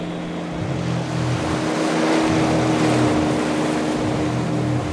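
A motorboat engine in the Saints Row video game on PS5 drones steadily and continuously, with a low hum and washing water noise, and no talk over it.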